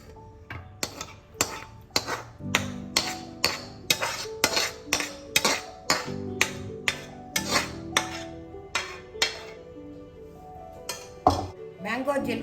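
A metal utensil knocks and scrapes repeatedly against a pan in a steady rhythm, about twenty sharp clinks, while cooked mango jelly is transferred into a small ghee-greased tray, with a soft clatter near the end.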